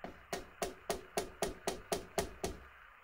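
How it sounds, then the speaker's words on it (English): Small aluminium hammer knocking a plastic landing net spreader block part, nine evenly spaced sharp taps at a steady rhythm, close and distinct with no talk. "What's a little aluminium hammer? Something that's not going to damage it. Aluminium hammer. Just knock that off."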